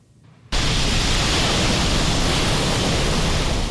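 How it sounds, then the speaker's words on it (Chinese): Huge typhoon-driven waves about six metres high crash onto the shore at Hualien's Beibin Park, a loud, continuous roar of surf that bursts in suddenly after a quiet start. "巨大海浪快速朝岸边袭来，用力拍打在岸边。"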